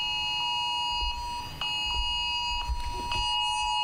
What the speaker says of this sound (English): Hey, look, we got a tornado warning.